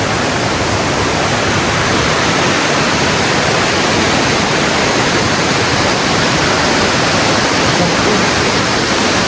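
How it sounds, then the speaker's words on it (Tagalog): Namengpengan Falls in Sigay, Ilocos Sur, heard from the lower pool: a dense, unbroken roar of falling water, close and loud throughout. "nandito tayo sa babang bahagi ng Namengpengan Waterfalls"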